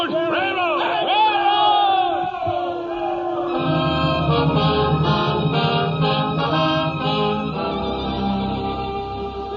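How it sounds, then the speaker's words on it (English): A crowd of townspeople cheers and yells as cowboys ride into Abilene in a 1949 radio drama, a loud sustained wall of voices with music swelling over it partway through. "People cheering and yelling"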